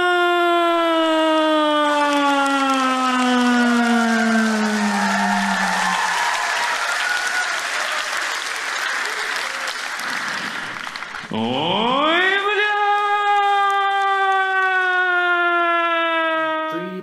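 A loud wailing air raid siren rises and falls in long sweeping tones, fading into a noisy wash before a second siren wail swells up again, continuous and close.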